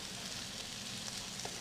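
Four cloves of chopped garlic sizzle steadily in a hot pan, a close, even hiss of frying with no talking over it.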